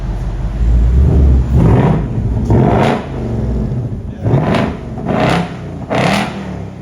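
A 2024 Ford Mustang Dark Horse 5.0L V8 with an installed X-pipe, revved in drag strip mode: a loud, close rumbling idle broken by several sharp throttle blips that rise and fall in quick succession.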